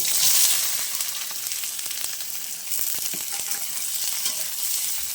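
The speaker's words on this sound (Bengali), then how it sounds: "চিনিটা একটু লাল লাল হয়ে গেলে আমি এতে পেঁয়াজ দিয়ে দেবো।" Onions drop into sugar browned in hot oil and fry with a loud burst of sizzling at first, settling into a steady close crackle with occasional stirring scrapes.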